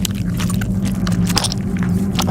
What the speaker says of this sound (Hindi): इतना रियलिस्टिक साउंड इफेक्ट निकालने के लिए वो अपने माइक्रोफोन एक टमाटर खाते हुए बंदे के पास रख देते हैं